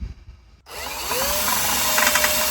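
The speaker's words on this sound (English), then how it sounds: "And then we'll start drilling." A power drill starts up abruptly after a short quiet moment and runs steadily, a high whine close by as it bites into metal, drilling out a frame rivet on a Ford Econoline van.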